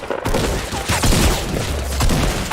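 Rapid gunfire from a pistol and a shotgun in a Fortnite match, a dense string of loud, closely spaced shots and booms that fill the whole stretch, with faint speech underneath.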